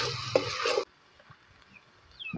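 Onion paste fries in a pan as the base for a paneer gravy: a loud, dense sizzle with stirring lasts under a second, then cuts to near silence with only faint clicks.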